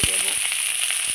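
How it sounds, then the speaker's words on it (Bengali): Kochur loti (taro stolons) fry in a pan with a steady, close hiss and a scattering of light crackles and pops. A soft stir or clink comes at the start. "হালকা করে নেড়ে নেব, তারপরে লাল লাল হয়ে ভেজে যাওয়ার জন্য রেখে দেব"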